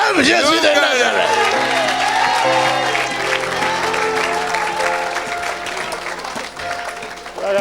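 A church congregation applauds loudly and continuously in acclaim of Jesus, the dense clapping joined by scattered shouts and cheers, with a voice speaking over the crowd.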